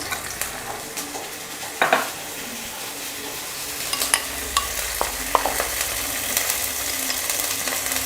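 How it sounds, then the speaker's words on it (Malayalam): Chopped ginger sizzles and fries in a pan for chilli chicken, with steady crackling under repeated scraping and clinking strokes of a spoon stirring against the metal, moderately close and with no talking. "ഇതിലേക്ക് ഇഞ്ചി ഇടണം."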